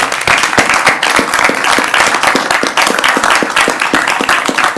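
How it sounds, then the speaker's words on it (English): A seated audience at a transportation board meeting breaks into steady, dense applause: many hands clapping continuously and fairly close, with no talking over it. "stand up and give her another round of applause"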